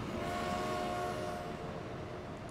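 A steady train sound from the Transport Fever video game, a continuous rumbling rail roll with a sustained horn-like whistle tone, even and unbroken throughout.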